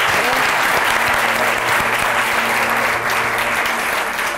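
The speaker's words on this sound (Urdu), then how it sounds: "بہت ساری تالیاں" Live-show audience breaking into loud, continuous applause that stays full and even throughout, with a faint tonal hum running beneath the clapping.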